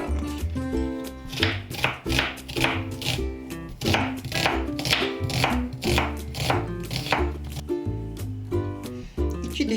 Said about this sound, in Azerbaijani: 400 qram qiyma üçün 2 baş soğan xırda-xırda doğranır.